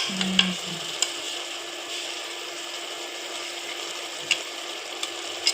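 Palak spinach and toor dal with salt and turmeric frying in a pan, a soft, even sizzle with a low thump at the start and scattered faint clicks from stirring.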